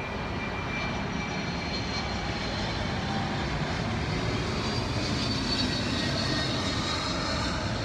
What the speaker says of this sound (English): And here comes another plane.